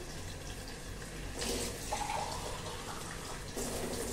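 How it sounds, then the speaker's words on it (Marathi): Water poured onto the lid of a kadhai holding Maharashtrian crispy potato stir-fry, a steady splashing pour that swells briefly midway and again near the end, close and moderately loud with no talk. "झाकणावरती मी पाणी घालते"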